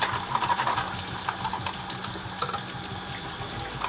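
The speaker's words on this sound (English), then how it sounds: "this is just cold tap water" Cold tap water runs steadily over aquarium filter racks and bio balls while they are rinsed, a continuous close splashing rush with no talk.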